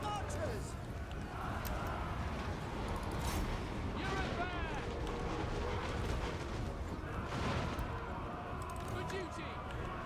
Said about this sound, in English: I cannot believe how bad his artillery is taking a dump on my guys here.